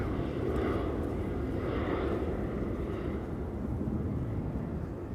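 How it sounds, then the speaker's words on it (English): A KLM Boeing 737 bound for Ibiza begins its takeoff roll at Amsterdam Schiphol, a broad steady jet engine roar that stays loud and constant, with wind buffeting the microphone. "the KLM 737 to Ibiza is beginning to roll, because it is getting closer by already"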